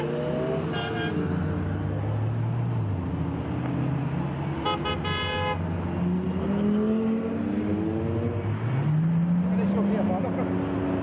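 At a Cannonball Run event in Ireland, a steady stream of cars rolls past with rising and falling engine notes, several short horn toots, and voices talking over the traffic noise.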